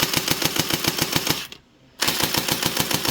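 Tan toy M4-A1 rifle firing on full auto, a loud rapid stream of evenly spaced mechanical shots, briefly stopping for half a second before resuming the same fast rhythm.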